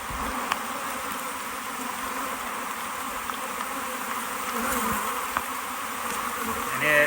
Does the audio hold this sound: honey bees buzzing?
yes